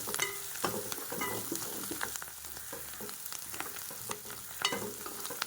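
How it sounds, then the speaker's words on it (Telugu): Chopped spring onions and tomato with a pinch of turmeric fry in a pan, a steady soft sizzle with occasional stirring scrapes and crackles, fairly quiet and with no voices. "చూడండి ఎంత బాగా వేగుతున్నాయో"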